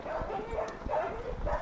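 A dog on a parkrun course at Lanhydrock gives several short yips and bow-wows, moderately near, over the steady background noise of an outdoor run.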